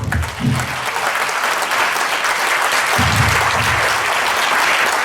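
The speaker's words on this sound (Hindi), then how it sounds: "तो जोरदार ताली बजाइए, जोरदार।" An audience at a Holi Milan community gathering bursts into loud, dense, continuous applause, with a few low voices briefly showing through at moments.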